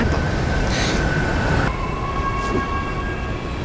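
A subway train runs steadily throughout, a continuous rumbling rush with a faint high whine, briefly shifting in tone partway through, with no talking.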